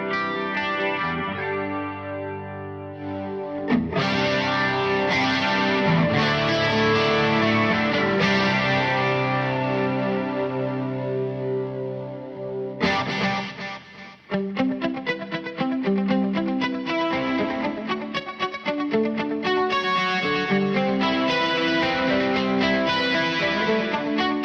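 An electric guitar plays sustained chords and arpeggios drenched in a shimmering, wide 80s-style chorus effect from a MOD Dwarf effects unit, with a brief pause midway before the playing resumes.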